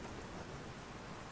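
Steady rain in the video game Trine 2 hisses evenly throughout, a soft continuous wash of falling water with no other sounds.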